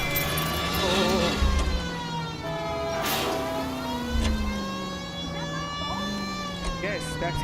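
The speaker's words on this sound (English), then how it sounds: "freaking police car coming" A police car siren in a video game, L.A. Noire, wails, rising and falling over a steady engine drone, with game-like tones layered on top and voices talking in the background.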